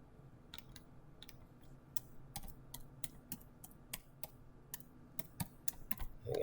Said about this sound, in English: I think I typed the password wrong.